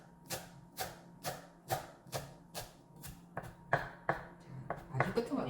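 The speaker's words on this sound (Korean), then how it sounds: "겹쳐서 자, 1cm 썰어줍니다" A knife chops through cucumber on a board for a cucumber kimchi dish, making a steady run of about a dozen close, evenly spaced thuds that quicken and crowd together at the end.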